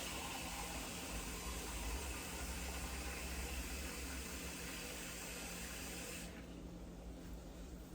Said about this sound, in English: And you're also gonna add 2 cups of water.